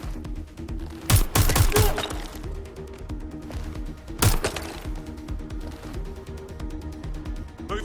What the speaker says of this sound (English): Shots fired! They must shoot! Fuck, I'm shooting!